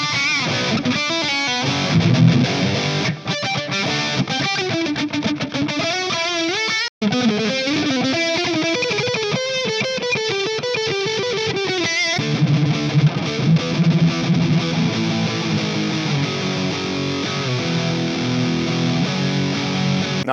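Overdriven Fender Vintera 70s semi-hollow Telecaster with humbuckers riffing and bending notes with thick distortion and spacious reverb and delay, loud throughout with a brief pause partway.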